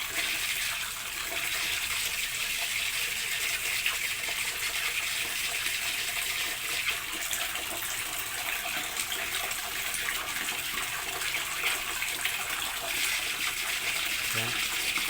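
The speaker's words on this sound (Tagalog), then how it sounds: "Tapos lalagyan na natin naman ng tubig mga guys." Water gushes steadily into a cooking pot, a continuous close splashing rush that stays even for about fifteen seconds.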